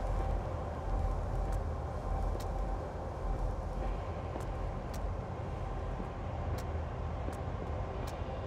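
Repaired train running with a steady, dense rumble and rattle of wheels and carriage, continuous and fairly loud, with faint periodic clicks on top.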